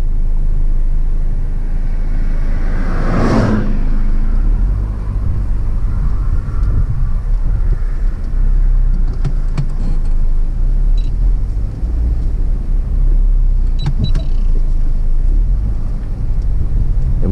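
A Peugeot 408 with an AL4 automatic gearbox accelerates from 0 to 100 in sport mode, its engine and road rumble loud and steady up close, with a brief rising whine early on and no talking.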